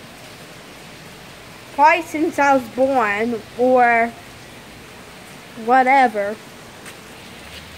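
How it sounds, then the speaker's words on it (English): Heavy rain pouring down outside, a constant hissing downpour that persists throughout, with a person speaking over it in short bursts. "But it's just pouring like crazy."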